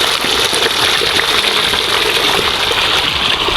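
Irrigation water gushes strongly from a solar-powered pump pipe in a field being readied for direct-seeded rice, a loud, steady broadband rush that continues without break throughout.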